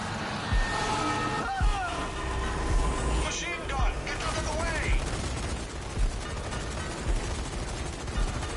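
Rapid machine gun fire in the shooter game Zombie Army 4: Dead War, heard as loud bursts over a dense background of combat noise, with voices talking throughout.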